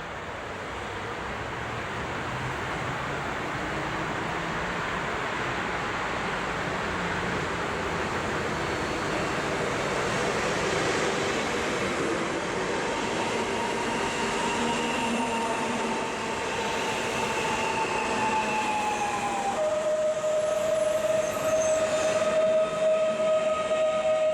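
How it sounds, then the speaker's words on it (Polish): An SKM commuter train running from Warsaw Chopin Airport to Radzymin pulls into Warszawa Wola station with a steady rolling rumble that grows louder, then high metallic wheel squeals ring out as it slows near the end. "A tymczasem wjeżdża SKMK z Warszawa, lotnisko Chopina do Radzymina."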